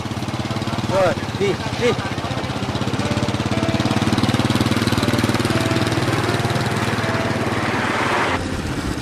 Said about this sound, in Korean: 아슬아슬 오토바이 뒷공무니에 수레를 걸치고 이동해야 합니다.